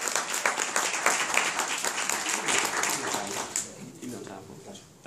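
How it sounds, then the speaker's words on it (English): An audience at a compensation plan presentation gives a big round of applause for guests: dense, fairly loud clapping with crowd voices mixed in, thinning and fading over the last second or two. "Big round of applause for our guests"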